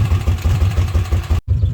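A Kawasaki Mule utility vehicle engine idles just after an oil seal replacement, a steady low rhythmic chugging with a mechanical clatter, close and fairly loud.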